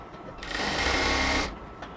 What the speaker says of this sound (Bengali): একদম পট্টি পর্যন্ত আমরা আস্তে আস্তে সেলাই করতে করতে আসবো।